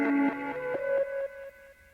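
A tape echo effect on a Japanese music sample: a short tonal phrase that repeats in fading echoes, each repeat softer and slightly smeared, gradually decaying over two seconds.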